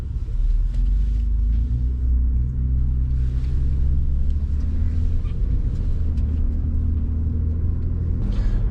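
Ford F-150 Gen 1 Raptor pickup truck driving on the road, a steady low engine rumble and drone heard from inside the cab, continuous and fairly loud with no talking.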